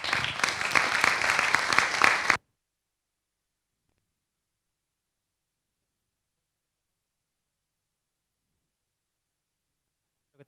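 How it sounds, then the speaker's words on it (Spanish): Audience applause for a speaker at an entrepreneurship event, a dense burst of clapping for about two seconds that cuts off abruptly into silence. "Un aplauso para él también"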